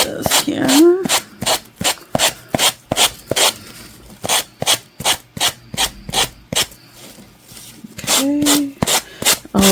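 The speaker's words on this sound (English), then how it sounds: "let's see how it looks after I sand off the edges here" Sandpaper is rubbed by hand along the edges of wooden tumbling tower blocks, giving a steady run of loud, close rasping strokes in a quick regular rhythm, with a brief voice or two in the background.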